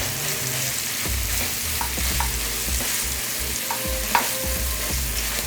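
Ground meat for Southern sausage gravy fries with a steady sizzle in a skillet as a utensil breaks it up, giving repeated soft scrapes and taps, with one slightly louder knock.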